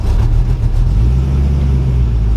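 A 1976 Chevy C10 pickup engine idles unevenly with a steady low rumble and slight wavering, loud and close, running alone with no talk.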